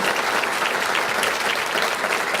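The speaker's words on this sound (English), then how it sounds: "let's do one more round of applause for Lieutenant Governor" A crowd applauds for a Lieutenant Governor at a public speaking event in Coeur d'Alene, a loud, dense, continuous burst of clapping throughout.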